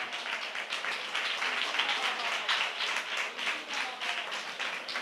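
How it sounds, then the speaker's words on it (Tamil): Church congregation clapping together during a fervent prayer service, a dense, steady patter of many hands that continues without pause at moderate loudness throughout, with no clear voices above it. "நல்ல கைத்தட்டி, நல்ல கைத்தட்டி."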